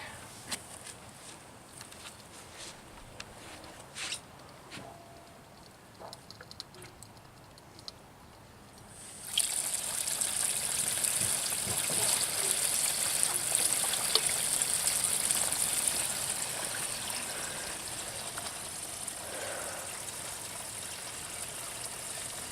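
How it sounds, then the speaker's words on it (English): Water pours in a steady trickling stream into a rebuilt 1960s Evinrude 40hp outboard motor, starting partway through after quieter clicks and ticks, continuing at a moderate level. "I'm going to add some more water to it"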